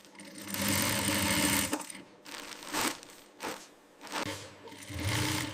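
A sewing machine in a caiman leather factory runs in several short bursts of rapid mechanical stitching, stopping and restarting with brief pauses between runs.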